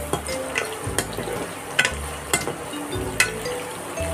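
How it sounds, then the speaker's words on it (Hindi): Onions fry in oil in a pan while being browned for an eggplant sabzi, a close, steady sizzle punctuated by several sharp scraping and tapping stirs of a spoon. "फिलहाल प्याज को अच्छे से लाल करती हूँ"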